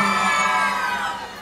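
A concert crowd at a live show shouts and cheers loudly in one sustained burst of many voices that fades slightly at the end.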